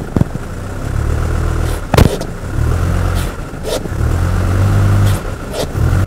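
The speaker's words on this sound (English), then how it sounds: "I'm gonna put it in low, and now I'm gonna power brake it" A diesel truck engine revs hard while power braked in low gear for a blow-by check, the drone rising and falling in several sustained surges with a few sharp knocks, close and loud.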